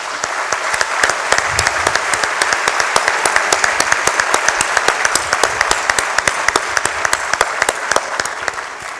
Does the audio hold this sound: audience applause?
yes